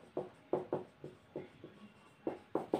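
Pen or marker strokes writing out a Class 10 cube-volume maths solution, a series of short scratchy bursts in an irregular rhythm, close and fairly quiet with no talking.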